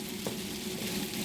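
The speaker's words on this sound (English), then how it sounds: "Sizzling sausages in a saucepan." Sausages sizzle in a saucepan for a cowboy-style breakfast, a close, steady crackling hiss of frying fat with no voices.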